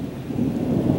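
Low, steady rumble of thunder at the start of the rainy season, loud and continuous, with a soft wash of light rain underneath.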